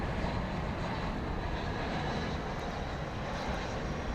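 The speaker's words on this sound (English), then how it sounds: "it's an Airbus A321 touching down from Seattle" An Airbus A321 airliner touches down at night at Dallas Fort Worth airport, a steady, broad jet roar heard from a distance that stays even and unbroken for the whole stretch.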